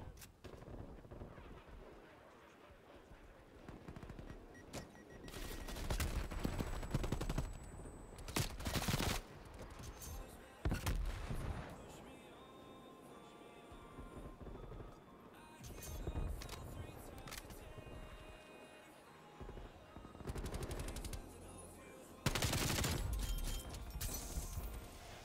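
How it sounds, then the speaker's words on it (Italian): Bursts of gunfire from a Black Ops/Warzone match: repeated rapid volleys and single cracks come in clusters across the stretch, loud against a quieter game background with no talk. "Stavo già sparando."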